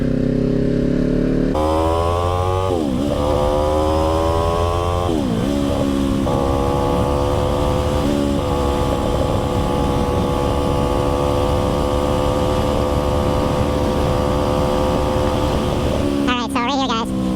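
A Kawasaki Ninja 400 motorcycle rides through a DMV skills test in Milwaukee/Waukesha. The engine is loud and close throughout, revving and shifting through rising and falling pitches, with wind noise, and a rider's voice may be faintly present.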